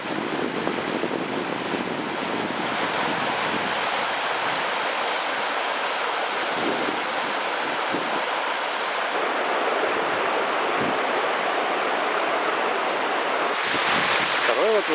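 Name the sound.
water flowing over the first rapid of the Gridina River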